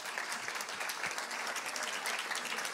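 Audience applause follows a Spanish-language talk, with many hands clapping in a steady, dense patter heard from some distance and no voices over it.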